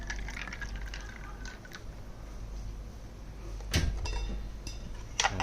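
Cold water is poured into a glass of Indonesian fresh-squeezed orange juice over ice, giving a steady close-up liquid trickle with a couple of brighter splashes and clinks near the end, and no talking.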